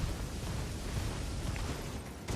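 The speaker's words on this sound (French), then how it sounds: "Vous voyez ces espèces d'explosions là, faites attention." Dense rumbling burst noise from explosive bubbling hazards in Elden Ring, a steady low boom-and-crackle texture sustained throughout with no voices.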